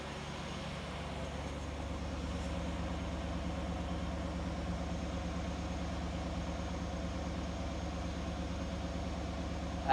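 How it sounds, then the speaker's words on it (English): A Pontiac Trans Am GTA engine idles steadily and evenly throughout, a smooth continuous low rumble with no voices. "Idling smooth as silk."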